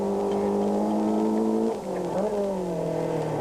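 A front-wheel-drive Sasol Daewoo rally car on a stage of the 1996 Castrol International Rally holds a loud, strained engine drone, dips briefly as it shifts gear midway, then pulls on with a rising whine.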